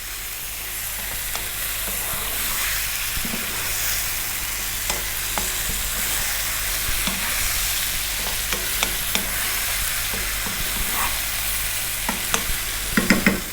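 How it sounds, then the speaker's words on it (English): White fish fillet fries in a pan for a fish curry while it is gently stirred and turned, giving a steady, even sizzle with small scraping clicks, louder taps near the end. "Just 3 minutes, gently turning it over, stirring it there."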